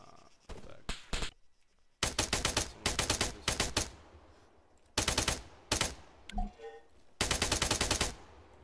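Arma 3 gunfire in bursts of rapid automatic shots, several loud volleys separated by short pauses, with a few single cracks in between and no talk over it.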